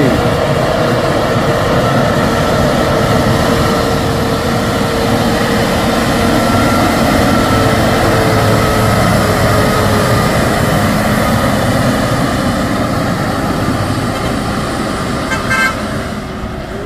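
A brown Fuso tanker truck hauling CPO climbs the Bukit Kodok incline, its engine a loud, steady drone close by that holds unbroken throughout, with a brief horn toot near the end.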